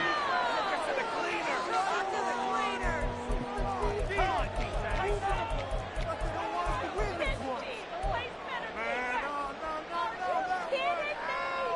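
A large stadium crowd at an American football game in a video game roars steadily throughout after a touchdown, a dense wash of cheering and chatter with thumping beats and calls rising above it.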